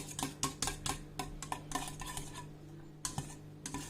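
Homemade honey-scented shampoo mixture being stirred in a container, with a rapid run of light clinking, scraping taps, a brief pause, then a few more strokes, close and fairly quiet with no talking.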